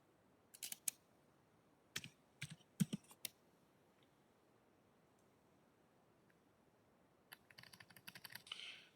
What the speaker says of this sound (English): I'm just typing in this number here.